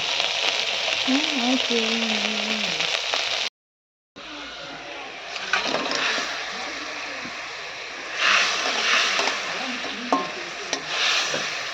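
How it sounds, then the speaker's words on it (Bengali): Rohu fish pieces fry in a spicy paste in hot oil with a loud, steady sizzle and the occasional scrape of stirring, broken by a short gap partway through; someone speaks briefly at the start. "আমি মাছটা দিয়ে দিয়েছি ঝালের মধ্যে"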